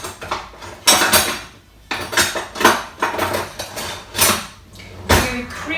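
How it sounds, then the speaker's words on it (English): Biscuit mixture being beaten with a wooden spoon in a bowl, repeated close knocking and scraping strokes in an uneven rhythm, loud and alone. "So this is where you're beating, with a wooden spoon for quite a while"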